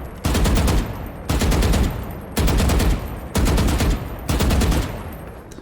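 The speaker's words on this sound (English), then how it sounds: "Pull your aim down when you shoot, like so" Automatic rifle fire in Valorant: five sustained bursts of rapid, loud, close gunshots, each lasting about a second, with short gaps between them.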